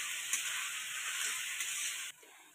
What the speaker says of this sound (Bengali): একটু ভালো করে ভাজা ভাজা করে নেব